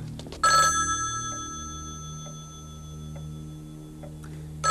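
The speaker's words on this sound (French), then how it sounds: "que quelqu'un décroche le téléphone et vite!" Telephone ringing loudly in a 1990 French film, a bright electronic ring that bursts in, decays, then repeats as faint ticks before ringing again at the end.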